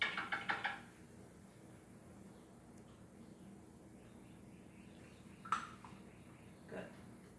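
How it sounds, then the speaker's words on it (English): Knocking on a door plays back as a recorded sound effect, a quick cluster of faint raps at the start followed by a couple of isolated knocks later, in an otherwise quiet room. "Looks like a door knocking."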